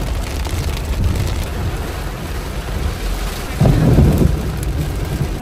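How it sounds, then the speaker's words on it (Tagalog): Heavy rain pours steadily with a dense hiss, and a deep rumble of thunder swells near the end. No one speaks. "Hindi na ako nakapag-video kasi ang lakas ng ulan."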